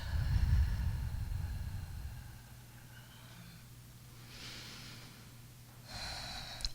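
A person exhales slowly and deeply during a breathing exercise, a close, breathy rush that fades into quieter breaths.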